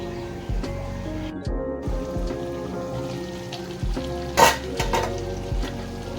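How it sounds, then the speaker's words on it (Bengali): Chicken with peas sautés in a pan, crackling and sizzling steadily with intermittent scraping stirs and one louder spatter, heard close up and without voices. "আবারও কিছুক্ষণ কষিয়ে নেবো ভালো করে চিকেনটাকে"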